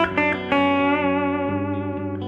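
A distorted electric guitar with its reverb turned down plays a few picked notes that ring out and sustain, with little echo trailing after them.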